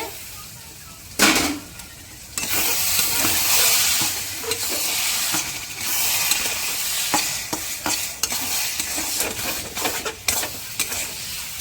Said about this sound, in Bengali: পরিমাণ মতন চিনি দিয়ে নিচ্ছে আবারও কিছুটা জল দিয়ে নিচ্ছে